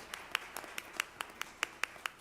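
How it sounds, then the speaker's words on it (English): Sparse clapping from a small audience at a coffee-and-conversation gathering: a handful of separate, fairly sharp claps in a loose, uneven rhythm, quiet and with no talk. "And give yourself a hand clap for just being here and listening to this."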